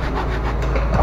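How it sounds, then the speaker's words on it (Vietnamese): Steady rasping scrape of a hand saw cutting through a tree, continuous and close, with a rough grinding texture. "Đây con Cường đang cưa cây, cưa khí thế luôn"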